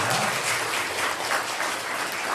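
Church congregation applauding during a Sunday worship service to welcome a newcomer, steady dense clapping that fills the room without a break and with no voices over it.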